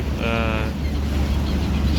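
Boat ride on the river at Varanasi: continuous low boat and water rumble with wind noise, plus a brief tonal whine early on, steady and close.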